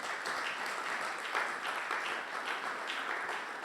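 A congregation at a Sunday worship service claps loudly and continuously, a dense, even wash of applause that fills the hall throughout.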